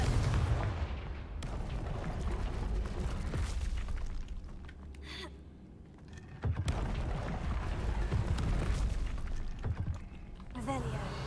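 Confringo blasting spells exploding in Hogwarts Legacy, a dense stretch of booming blasts and rumbling debris that drops briefly and then surges again, loud and close.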